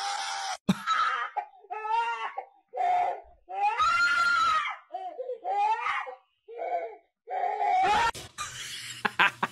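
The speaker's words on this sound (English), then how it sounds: "Oh, is this just cut screams?" Screams in a cut-together clip, a rapid string of shrill, loud bursts with short gaps between them, some sounding almost like laughter, closing in a harsh noisy outburst.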